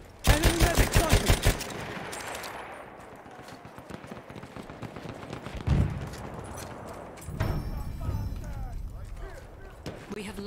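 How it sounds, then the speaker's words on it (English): Machine gun fire in the Battlefield 1 video game, a rapid burst of rattling shots up front followed by scattered gunfire, distant blasts and battle clatter, with voices shouting over it. "Look out! Machine gun!"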